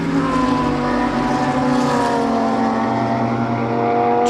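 Race cars, including a Paget Racing Lamborghini and an MJR Audi, lap Zwartkops Raceway, with loud, sustained engine wails whose pitch bands rise and fall as the cars pass close by, with no talk over them.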